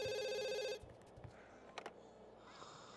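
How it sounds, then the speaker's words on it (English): A telephone bell rings loudly in a steady electronic trill for under a second, then cuts off, leaving faint room noise with a couple of brief knocks. "Phone's ringing."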